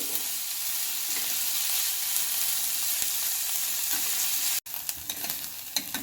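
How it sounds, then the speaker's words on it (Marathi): Onion sautés in a pan, producing a continuous, close sizzle with stirring scrapes, briefly cut off near the end before resuming, with no voices. "आता आपण यामध्ये कांदा घालून घेऊया कांदा आपल्याला छान परतून घ्यायचा आहे"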